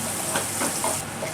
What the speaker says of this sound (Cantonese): 我哋要將啲紅葱頭同埋蒜蓉爆香咗先。